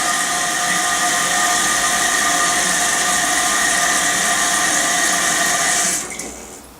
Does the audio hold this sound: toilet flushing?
yes